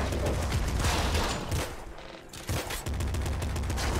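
Dense, continuous gunfire from the top-down shooter video game Nuclear Throne, with rapid overlapping shots and blasts. The sound is loud and sustained, with a brief dip midway.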